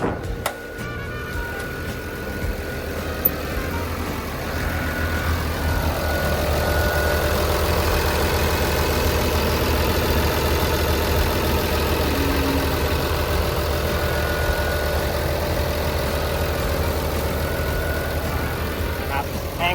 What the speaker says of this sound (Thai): แล้วก็เสียงเครื่องของเขาเนี่ยการทำงานของตัวเครื่องยนต์ ของเขานะครับ ก็ทำงานได้นิ่มนะฮะแน่นดีปกติเลย